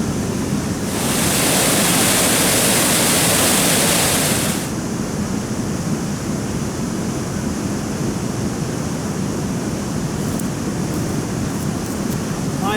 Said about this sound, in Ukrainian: Але тут дуже гучно, вода падає, некомфортно.